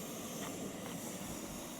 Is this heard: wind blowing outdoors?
no